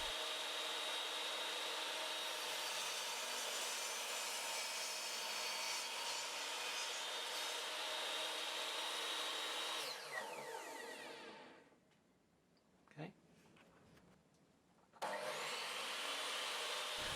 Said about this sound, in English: it was back to the chop saw, this time cutting at a 45-degree angle